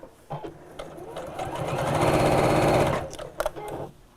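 A sewing machine top stitching fabric at a long stitch length: a steady, close mechanical whirring burst of about a second and a half that speeds up and then stops, framed by brief handling clicks.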